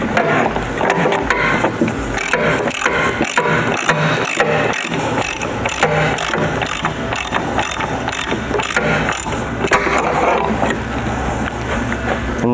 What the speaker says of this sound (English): I'm just going to use a socket